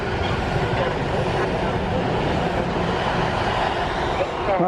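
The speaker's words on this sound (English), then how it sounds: "Stand back from the platform until the train has stopped." Train pulling into a station platform in Wolverton/Northampton service area, a steady loud rumble of wheels and engine noise filling the whole stretch without pause.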